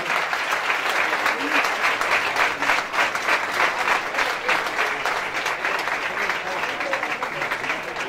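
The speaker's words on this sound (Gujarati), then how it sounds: "આપણે જોરદાર તાળીઓથી" A crowd at a Hindu temple gathering honouring swamis and Acharya Maharajshri claps loudly and steadily, a thick, continuous wash of applause that lasts the whole stretch without a break.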